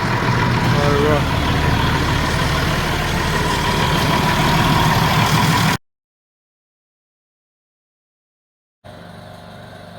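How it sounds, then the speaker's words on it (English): Many tractors, some seventy or eighty gathered together, idle at once as a loud, steady low engine rumble for several seconds, then the sound cuts out and resumes more faintly. "I don't quite know how many tractors there is, but there must be 70, 80 tractors altogether."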